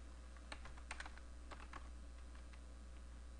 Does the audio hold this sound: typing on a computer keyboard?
yes